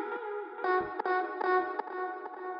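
A chopped vocal sample made in Ableton Live plays as a run of clipped, pitched syllables, each one trailing into echo, reverb and delay that smear the stabs together into a washy, repeating tail.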